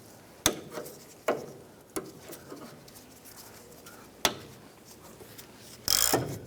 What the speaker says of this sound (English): I'm going to go ahead and use our cutters and cut off the excess.